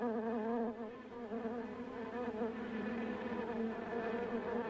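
Dense swarm of bees droning in a continuous wavering buzz, close and steady, with no voices.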